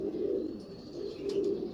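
Teddy and Batera breed pigeons coo nearby in low, rolling, throaty murmurs that swell and fade in two soft phrases, with no talking.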